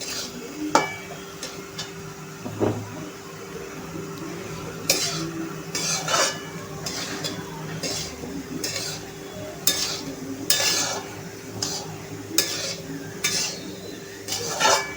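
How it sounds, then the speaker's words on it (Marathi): A spoon works through sabudana khichdi mixture with salt and coriander in a pan, giving scraping, clinking strokes at an irregular pace. A faint sizzle sits beneath the stirring, and no one speaks. "आता आपण हे मिश्रण मिक्स करून घेऊया, म्हणजे मीठ सगळीकडे लागेल साबुदाण्याला"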